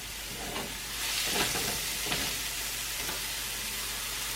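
Onions for stuffed mushrooms fry in a pan, a loud constant hissing sizzle that swells with a few soft stirring scrapes, close up and without speech.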